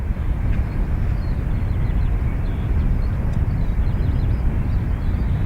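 An airliner, an Aer Lingus Shamrock flight, rolls for takeoff on runway 28 right at Dublin Airport. Its jet engines make a steady, loud, low roar that holds constant throughout, with no voices.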